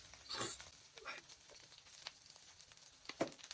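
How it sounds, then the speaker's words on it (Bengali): Crab curry sautéing in a pan, a quiet sizzle broken by several short scraping stirs of a utensil against the pan. "আমরা এটা একটু কষায় নেব এর মাঝে লবণ দিয়ে নেবো"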